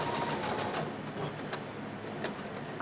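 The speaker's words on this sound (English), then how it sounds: "I'm going to stitch rather slowly so that I can stay right along that inner fold." A sewing machine stitching slowly along the inner fold of dress fabric, giving a steady close mechanical whir with a faint repeating needle rhythm throughout and no talking.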